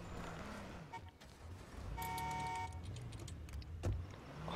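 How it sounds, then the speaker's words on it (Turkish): A car horn sounds in the video game H1Z1, with one held toot about half a second long rising over a low engine rumble, plus a few later clicks and knocks. "Adam kornaya basıyor,"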